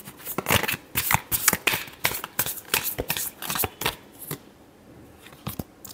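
Tarot cards get a final shuffle, a run of quick papery riffles and snaps up close that taper off into near silence toward the end.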